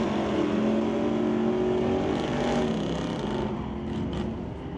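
A 1969 Chevelle and a 1983 Olds Cutlass, both with 350 small-block Chevy engines, drag racing at an NHRA event, giving a steady loud engine roar that swells and fades slightly, with no voices.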